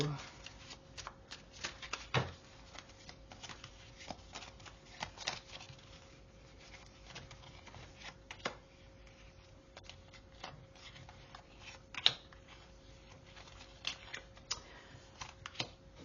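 Purple oracle cards are shuffled by hand, making soft, rapid riffling and flicking with occasional sharper taps, fairly quiet and close, continuing through the whole stretch.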